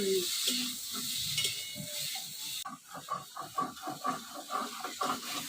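Eggplant pieces frying in oil in a pan: a dense, hissing sizzle gives way to a run of rhythmic stirring and scraping strokes, close and moderately loud.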